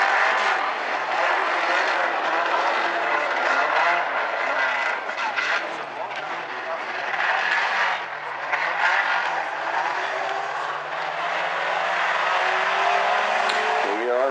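Outlaw compact race cars racing at South Sound Speedway, engines wailing loudly with repeated rising and falling pitch as they lap, continuous close roar under excited commentary.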